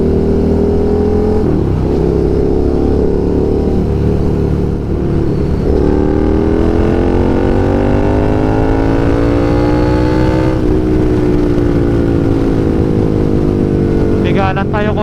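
Suzuki SV650 motorcycle fitted with an Austin Racing exhaust, idling loudly then revving in rising sweeps near a gas station, close and continuous, with a sharp throttle blip near the end.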